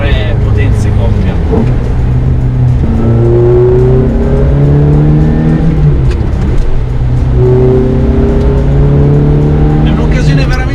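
Ferrari F430 V8 with a six-speed manual pulling through the gears on the road, its loud engine note climbing steadily, dropping at each shift and climbing again, under constant cabin and road noise.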